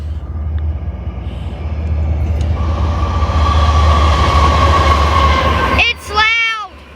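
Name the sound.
CSX freight train passing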